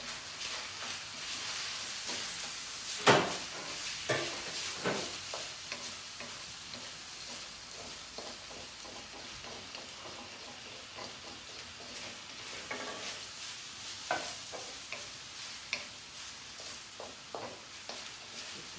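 Garlic sizzles in a pan during a Chinese stir-fry, a soft continuous frying hiss broken by scattered clinks and scrapes of stirring, close by and with no talking.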